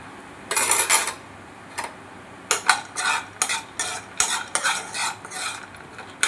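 Food being stirred in a pan in a home kitchen, with repeated short scraping and clinking strokes of a utensil against the pan coming in irregular bursts, close and fairly loud, with no talking.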